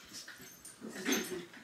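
Dogs whimper and whine softly indoors, with a short thin cry early and a louder, breathy whimper building near the end.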